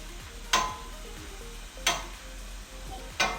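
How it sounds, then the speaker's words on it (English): Onions and garlic in oil in a hot pot get stirred with three sharp scrapes spaced about a second and a half apart over a soft, quiet background sizzle, with no voices. "Then I'm going to mix it up everywhere around."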